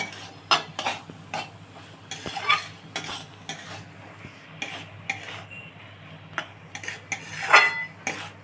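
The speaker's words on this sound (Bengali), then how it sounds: "এখানে আমি 1 চামচ টক দই দিচ্ছি, আর একটুখানি দিচ্ছি, দিয়ে এবার শুধু নাড়তে থাকবো" A spatula stirs an egg and eggplant curry with yogurt in a pan, producing repeated clacks and scrapes against the metal every half second or so over a soft background sizzle. The sound is close, with no talking.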